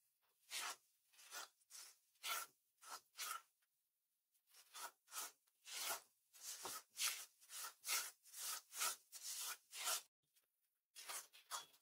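A moong dal premix is stirred and roasted in ghee, heard as close, dry scraping and rubbing strokes in a steady rhythm with a short pause partway through, no voices.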